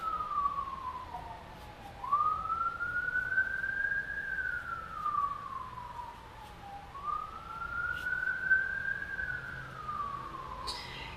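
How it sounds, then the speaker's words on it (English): A wailing emergency siren rises and falls in slow sweeping cycles, moderately distant and slowly growing louder as it approaches, over faint background noise. "Wow, those sirens are getting louder and closer."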